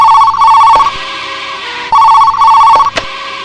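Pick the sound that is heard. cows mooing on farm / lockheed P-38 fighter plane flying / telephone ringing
telephone ringing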